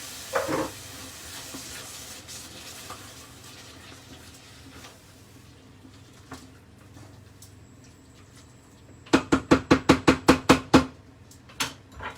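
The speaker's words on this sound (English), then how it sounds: "We're going in with half a tin of chopped tomatoes, and we'll just turn this down to simmer now." Half a tin of chopped tomatoes turned down to simmer in a pan for smashed fish and potato, giving a low steady sizzle, then a quick series of about eight loud clattering knocks near the end, with no talk.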